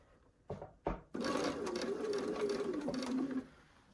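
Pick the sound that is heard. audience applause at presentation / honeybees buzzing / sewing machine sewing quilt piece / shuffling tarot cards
sewing machine sewing quilt piece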